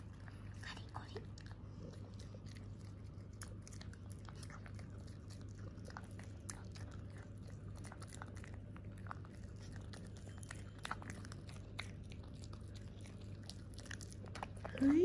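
A dog crunches homemade oatmeal and sweet potato cookies, with small crisp bites and chewing clicks scattered faintly over a low hum while a person speaks softly.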